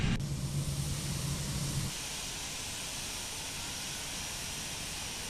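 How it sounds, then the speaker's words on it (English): An Airbus jet engine number 1 spins up in Flight Simulator X, a faint, steady hiss and whine with a low hum that drops away after about two seconds, leaving thin, even noise. "Now engine 1. Starting number 1."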